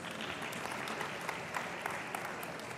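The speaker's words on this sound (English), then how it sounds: "Can you please give him another round of applause?" A crowd at an engineering awards ceremony gives a steady round of applause, an even, continuous wash of many clapping hands with a few sharper claps standing out.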